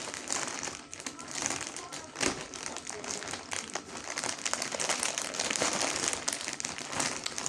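Plastic packaging from a Joom parcel crinkles and rustles close by as it is unpacked, with someone talking over the handling.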